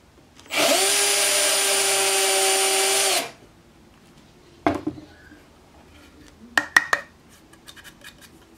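A Bosch drill countersinks a hole: a steady high whine for about three seconds, then scraping and clicking as the bit and workpiece are handled.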